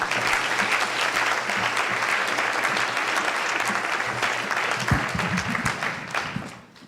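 An audience at a conference keynote applauds to welcome the speaker, a dense, sustained wash of clapping from many hands that holds steady at full loudness and then begins to taper near the end, with no talking.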